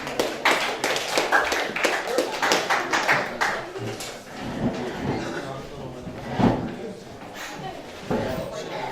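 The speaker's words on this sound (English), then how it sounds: "Round of applause, guys." Scattered claps from a small fight club audience before a bout, a handful of sharp slaps early on that thin out, with people talking in between and afterward.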